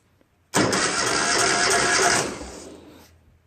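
A Ural motorcycle engine cranking over on its starter with the throttle held wide open for a compression test, a sudden loud, close, steady whirring crank lasting about two seconds before trailing off, no speech.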